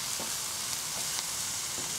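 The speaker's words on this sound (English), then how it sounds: "I've basically got the onions with the garlic and ginger and the curry paste. I'm just frying that off in the pan here." Onions, garlic, ginger and curry paste fry in a pan, giving a steady, dense, close sizzle with faint stirring knocks and no voices.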